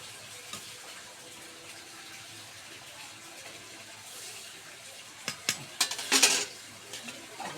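Quiet background hiss, then a brief splashing gush as water is poured into a hot pan of quail egg curry, with a few clatters around it.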